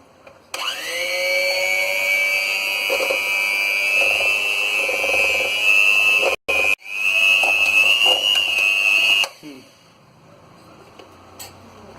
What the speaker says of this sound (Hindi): अब हम एक ब्लेंडर से इसे इन सारी चीजों को मिक्स कर लेंगे।